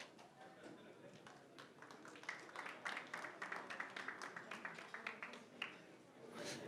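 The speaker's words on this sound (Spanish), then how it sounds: "Un aplauso, por favor." Audience applause at a software development conference in Mexico, starting sparse and building into steady clapping from a crowd in a hall, moderately loud with a brief swell near the end.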